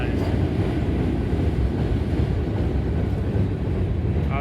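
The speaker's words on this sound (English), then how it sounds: "This could be very well be a work train that hauls ties." Work train hauling railroad ties rumbles past steadily, a loud continuous low roar of rolling wheels and cars without distinct breaks.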